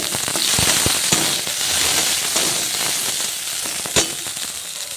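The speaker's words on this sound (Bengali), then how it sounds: "এখানে ঝুড়ো আলু ভাজা হচ্ছে" Thin shredded potatoes fry in hot oil in a home kitchen, a continuous loud crackling sizzle with scattered sharp pops, heard close with no talk.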